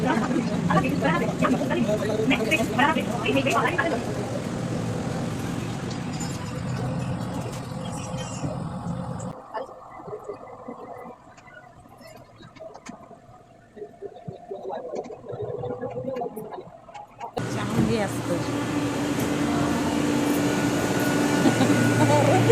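Metro train interior on a ride approaching Acharya Atre Nagar station: a steady rolling rumble and hum of the carriage runs throughout, quieter in the middle stretch, with people talking over it.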